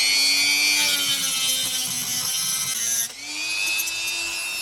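A power tool cuts down the shaft of a brushless motor with a steady high-pitched whine and a grinding buzz. There is a brief dip partway, then the cut continues.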